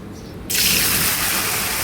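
Cooking oil poured into a pan on the stove for coconut chutney starts suddenly after a quiet moment, giving a steady, close, bright hissing rush that lasts to the end.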